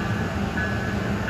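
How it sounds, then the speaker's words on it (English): A GP15 diesel locomotive rumbles at a SEPTA station, a loud, steady low engine drone with a faint tonal whine above it, brief and continuous. "That engine's classified as a GP15."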